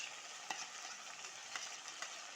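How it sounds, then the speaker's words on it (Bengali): Mutton fat sizzling and frying in a pan while masala is cooked for a jackfruit curry, a steady quiet hiss with a few sharp pops and soft stirring clicks, no voices. "ভালো করে চর্বিটা ভেজে নিব"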